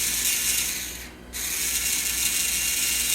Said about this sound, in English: So we'll give the motor an easy start here. Let it break in a little bit.